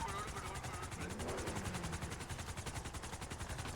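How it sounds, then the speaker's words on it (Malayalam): A video game helicopter's rotor thumps in a fast, even rhythm, the steady pulsing chop running through the whole stretch while players talk over it. "ഹെലികോപ്റ്റർ ആണ് നമ്മുടെ അത്"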